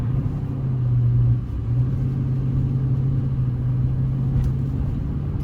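A car pulls away from a dead stop with one tire in snow and one on pavement, on Nitto Exo Grappler AWT tires; a steady low engine rumble holds throughout, with the tire spin not clearly separable.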